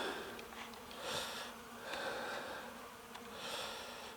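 Honey bees buzz softly and steadily at close range at a water feeder, a faint continuous hum that swells and fades a few times, with no voices.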